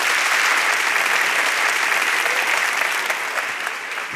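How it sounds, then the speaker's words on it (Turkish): A studio audience at a television talk show applauds in a steady, dense wash of many hands, sustained and fairly loud, easing slightly toward the end. "Dekoru alkışlayan seyirci var"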